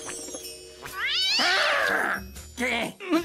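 A cartoon character imitates a cat with drawn-out, wavering meows and caterwauls, loud and close, ending in a couple of shorter mews.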